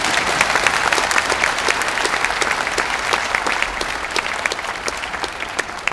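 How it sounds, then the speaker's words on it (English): Audience applause rising after the end of a talk on environmental living, a dense steady patter of many hands clapping for about six seconds, fairly loud and close, with no voices over it. "I'll take that applause."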